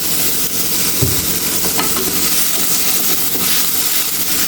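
Crushed shallots sauté in hot coconut oil for a Kerala lunch dish, a loud, dense sizzle and hiss that runs throughout, with occasional spoon stirs and soft knocks.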